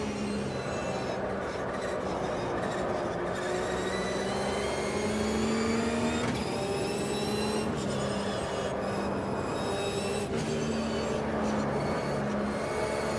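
Race car engine in Automobilista during a Boxer Cup race at Suzuka, droning steadily and rising in pitch as it accelerates through the gears, with short drops at each shift, heard close and continuous.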